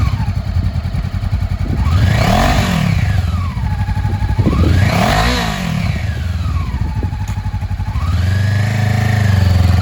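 A used 2014 Honda CB500F twin sport motorcycle runs close by, its engine revving up and down through a few strong swells before settling into a steady, loud idle, with no talk.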